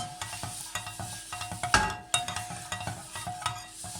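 Repeated scraping and tapping of a utensil stirring pancake batter in a bowl, steady rhythmic strokes close by, with a brief louder clatter midway.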